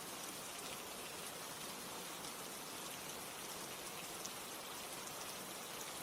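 Steady autumn rain falls evenly and continuously, a soft dense hiss with no voices or other sounds.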